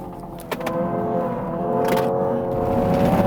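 Hyundai Ioniq 5 N electric car at full throttle, a steady synthetic engine-like drone rising in pitch as it accelerates, loud and close, with a few brief clicks and no talk.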